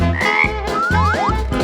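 A frog croaking loudly and close in rhythmic, throaty pulses, four or five croaks in quick succession, with whistling rising tones layered over them.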